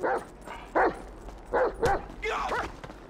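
Chop the dog in Grand Theft Auto 5 lets out several sharp, loud barks and yips in uneven bursts, close by, with game noise behind them.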